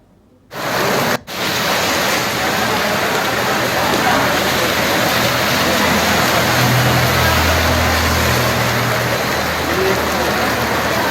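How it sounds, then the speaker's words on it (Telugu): Heavy rain in Hyderabad pours in a dense, steady roar after a sudden start, with a faint low rumble underneath and no voices. "భారీ వర్షం పడుతోంది"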